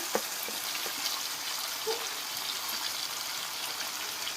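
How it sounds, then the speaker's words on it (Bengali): Bombay duck fish with potato goes into a pan of frying spices, making a low continuous sizzle with a few light stirring clicks, fairly quiet and steady throughout. "এবারে আমি লোটে মাছটা দিয়ে দেব লোটিয়া মাছগুলো আমি দিয়ে দিচ্ছি"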